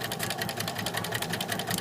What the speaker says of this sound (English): And then you're going to sew a seam.